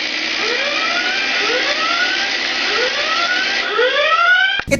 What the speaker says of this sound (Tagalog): Number 3, Flying Alarm Clock.